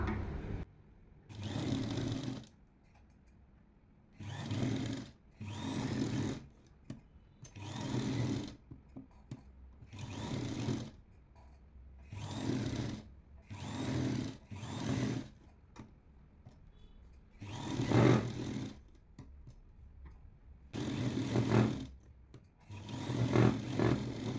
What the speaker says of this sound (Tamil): அப்படியே போட்டுட்டு ரெண்டையும் சரியாக வச்சுக்கிட்டு பின்னை போட்டுட்டு நம்ம சுற்றி ஒரு தையல் போட்டுட்டு வந்துடலாம்